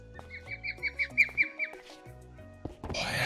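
Birds chirp and squawk in Minecraft, a run of about seven rhythmic calls over game music, followed by a burst of noisy activity at the end.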